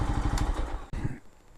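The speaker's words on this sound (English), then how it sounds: "The engine's super quiet too. The exhaust is nice and quiet." Lifan KPX 250 motorcycle, a 249cc single with fuel injection, running quietly; a soft, even low-pitched exhaust pulse with a brief dip partway through, fading slightly toward the end.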